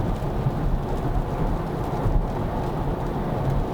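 Steady rain with thunder rumbling heard from inside a car while driving on a wet road, a dense continuous wash of low rumble and drumming with no voices.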